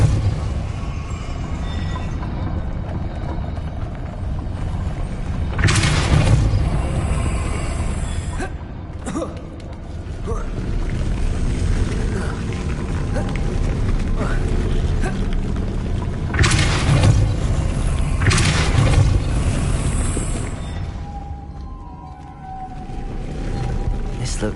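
A Depulso force-push spell cast in Hogwarts Legacy on PS5: a few heavy, booming blasts stand out over a steady rumbling game ambience, spaced several seconds apart.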